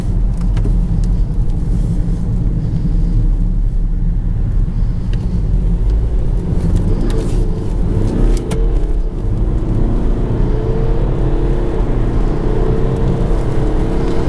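A 2015 BMW 320d F30 diesel engine accelerates during a test drive, a steady loud low rumble of engine and road noise holding throughout with a gradual rise in pitch as the car pulls.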